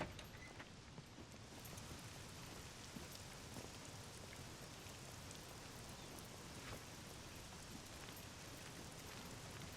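Steady rain falls in the survival game SCUM, an even, dense patter with scattered drops, continuous and fairly soft throughout with no voices.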